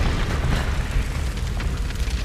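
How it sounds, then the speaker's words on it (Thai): Red barrel exploding in the Tomb Raider video game, a loud rumbling blast that rolls on as a sustained, crackling roar for a couple of seconds with no talk over it. "ถังแดงระเบิดได้ทุกเกมครับ"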